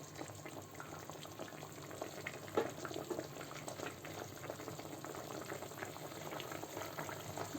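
Chicken tanjia simmering in a cocotte pot as its water reduces, a steady soft bubbling and sizzling with small pops, close and continuous.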